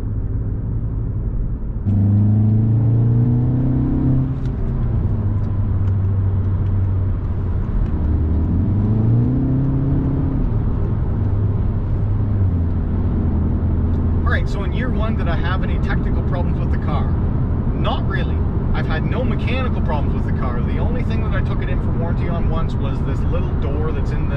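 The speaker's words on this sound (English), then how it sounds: "So we'll do a little bit of a highway pull" A 2017-style Volkswagen Golf R MK7.5 accelerates onto a highway, its engine rising and falling in pitch through gear changes as a steady road rumble carries underneath, with wind and tire roar building later and someone speaking.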